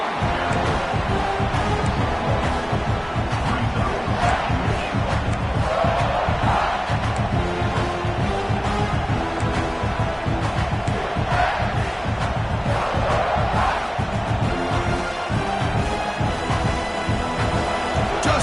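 A home crowd at a football game roars and cheers continuously, a loud dense wall of voices filling the whole stretch with little letup.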